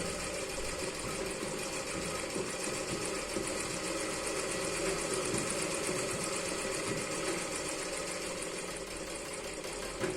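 A hand-wheel sewing machine turned by hand makes a continuous mechanical whirring and clattering throughout, steady and fairly close, with no talking.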